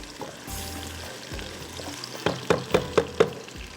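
Onions browning in a pan give a steady sizzle, with a rhythmic run of spoon scrapes and taps near the end.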